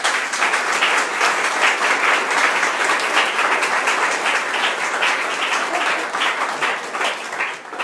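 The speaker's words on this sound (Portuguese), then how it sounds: "nós vamos dar uma salva de palmas para vocês" A church congregation gives a loud, full round of applause during a Presbyterian service, dense continuous clapping that stays steady throughout with no voices over it.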